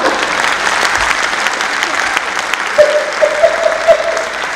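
Crowd applause at a Hindi humorous poetry recital (hasya kavi sammelan), a full, steady clapping from many hands, loud and close, with a brief voice or tone rising over it toward the end.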